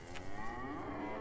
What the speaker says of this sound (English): there's a cow straight ahead of me